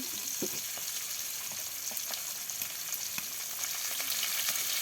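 Ground spice paste with chilli, onion, chopped garlic and garam masala frying in oil in a village kitchen pan, a soft steady sizzle with faint crackles and light stirring taps, no voices.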